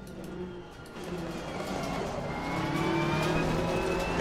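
Ferrari race car engine in Assetto Corsa Competizione at Brands Hatch, a close, rising engine note building steadily as the car accelerates, ending in a sharp louder burst.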